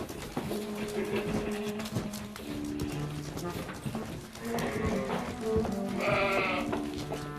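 A flock of sheep in the Austrian Alps arriving at a winter stable, with many overlapping bleats near and far, shuffling hooves and livestock clatter, while someone narrates over the herd.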